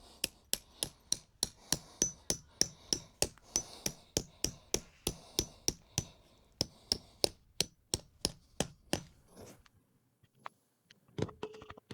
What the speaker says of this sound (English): And then the hammer again.